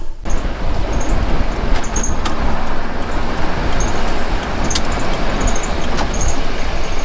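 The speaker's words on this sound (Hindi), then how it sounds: "जल्दी से गाड़ी लगा के आता हूँ" A car drives along a road at Chorla Ghat in Goa, with a steady, loud engine and road rumble running throughout, a few short clicks and knocks on top, and no talk.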